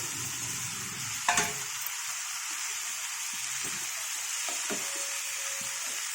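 Capsicum and sesame seeds fry in a pan with a steady close sizzle, stirred now and then with a few light knocks of the utensil against the pan.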